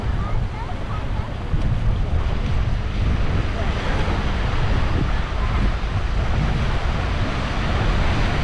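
Ocean surf at Xaréu beach in Maragogi, Alagoas, in front of a resort: a steady, loud wash of breaking waves mixed with wind buffeting the microphone, continuous throughout with no distinct pauses.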